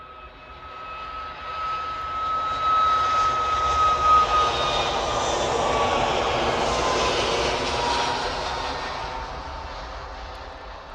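A jet airliner makes its takeoff roll at Manchester Airport, the engine roar building from a distant whine to a broad, loud rushing peak, then easing slightly as it carries on.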